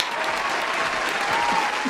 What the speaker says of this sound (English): Can we get an applause for Sika?